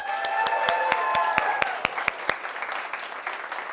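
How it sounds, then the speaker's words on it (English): A student TV talk show's studio audience claps for the house band, a moderate crowd applause with a few sharp close claps standing out before it fades to scattered clapping, while faint talk runs beneath it. "Also, give them another round of applause."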